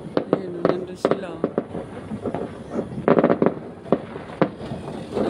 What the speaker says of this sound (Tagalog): Nag-antay sila sa fireworks.